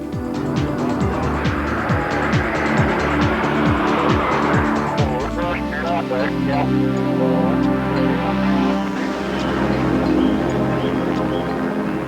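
A PS23 test car running an endurance session on a race track, engine note rising and falling as it laps, with rapid repeated passes early on and a steadier droning tone later, loud and close, with no talking.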